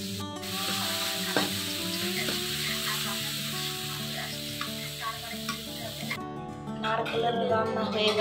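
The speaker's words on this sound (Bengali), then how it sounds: "নারকেলগুলো আস্তে আস্তে নাড়িয়ে চাড়িয়ে গোল্ডেন ব্রাউন হয়ে গেলে ওইটার মধ্যে চিনি দিয়ে তারপর গোল্ডেন ব্রাউন করে নামিয়ে দিতে হবে।" Grated coconut sizzling in a hot pan with sugar while being stirred, a steady close frying hiss broken by scraping stirs, with kitchen clatter and a brief voice toward the end.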